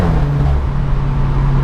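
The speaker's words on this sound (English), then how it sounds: "the 4C itself, as you can probably tell, is relatively loud, and you can hear that noise from within the cabin" Alfa Romeo 4C Spider engine heard from inside the cabin, a loud, steady low drone with a constant tone throughout, close and continuous with no talking over it.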